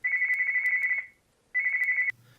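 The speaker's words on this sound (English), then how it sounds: "only to be awakened early the next morning by the phone" A telephone rings early in the morning in an audio drama, two loud electronic trilling bursts separated by a short pause, close and alone.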